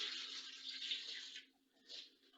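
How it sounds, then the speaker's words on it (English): Water pours steadily into a pot of crab apples for jelly, a soft hissing stream that stops, then a shorter splash follows, faint and close. "And then add enough water."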